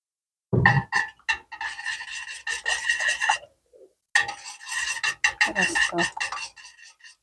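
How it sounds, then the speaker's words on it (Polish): Honey pickle brine is stirred in a pot for cucumbers, a close scraping and rasping of a utensil against the pot in bursts, pausing briefly midway before resuming, with no talk. "Zamieszamy."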